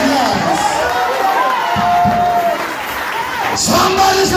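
A church congregation at a prophecy service cheers, whoops and applauds in a loud, continuous wash of crowd noise with voices mixed through it.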